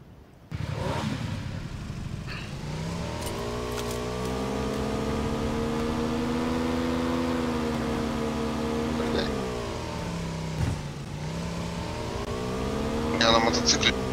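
A motorcycle engine in PUBG drones steadily close by, its pitch rising and falling as the rider accelerates and eases off, with a brief dip midway and people talking over it.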